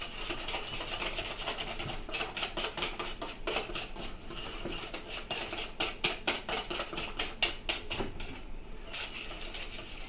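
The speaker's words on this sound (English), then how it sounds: "Alright, so start whisking this in here." A whisk beats rapidly inside a light bowl that won't stay still in a home kitchen during a live cooking session, making a steady, close run of fast scraping clicks that speeds up and slows in uneven bursts.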